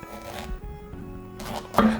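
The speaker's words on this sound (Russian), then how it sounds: "Например, когда я режу айву" A knife crunches through a firm, crisp quince, with a few short crackling cuts and a louder crunch at the end, close up.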